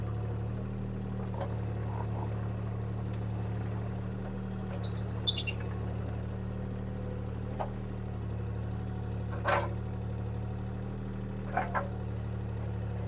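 A CAT 303C CR mini excavator idling with a steady low diesel hum while swinging around, with occasional faint clicks and creaks from the machine, no talking.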